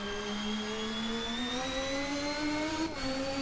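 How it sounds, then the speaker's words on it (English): A loud turbo engine whine from a McLaren MP4/4 Formula 1 car in a racing video game climbs steadily in pitch, then drops sharply at a gear change before continuing, with a high gearbox whistle above it. "You get the whine from the gearbox, you get the puff from the wastegate"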